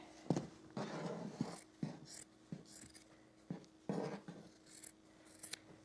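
Scissors cut through ironing board cover fabric in a series of separate crisp snips and longer slicing strokes, close up and alone with no talk.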